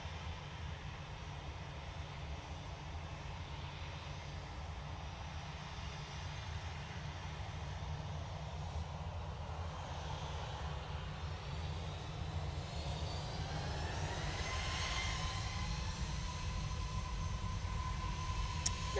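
A Ryanair jet departs Manchester Airport for Seville, its engine roar steady and broad, with a rising whine swelling toward the end as the plane climbs away at a distance.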